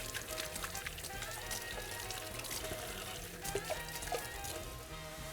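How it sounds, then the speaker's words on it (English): Water running from a tap while hands are washed, a continuous splashing patter with small shifts as the hands move through the stream, fairly quiet. "Wash our hands."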